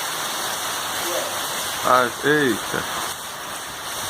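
Steady rain pours on a farm in a constant broadband hiss, and water gushes from a spout nearby. A man's short exclamation and a couple of brief voiced sounds rise over it partway through.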